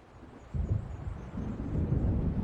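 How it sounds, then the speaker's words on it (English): Low, rolling thunder from an approaching storm in Alan Wake Remastered, a deep rumble that swells after a quiet start and keeps building as distant wind-like noise, with no voices. "It seems there's a storm coming."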